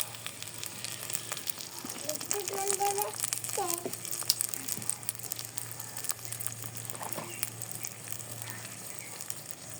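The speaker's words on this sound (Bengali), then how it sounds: "একটু তেল দিই" Oil heating in a cooking pan for a duck meat bhuna, a soft, steady sizzle heard at a low level with a few brief clatters and faint background noise, no voices.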